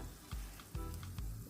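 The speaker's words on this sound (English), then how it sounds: "you're going to just start gently turning it over. Turning your eggs right over like that" Scrambled eggs sizzle steadily in a frying pan while a spatula gently turns them over, giving three soft scraping pushes at an even pace, close and clear with no talking.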